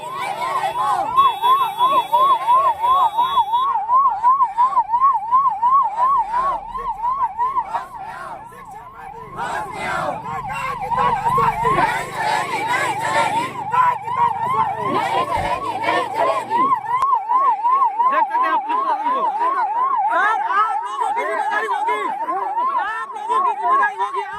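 A loud wailing ambulance siren cycles rapidly up and down for a long stretch, close by, at a protest, with crowd voices and traffic noise underneath.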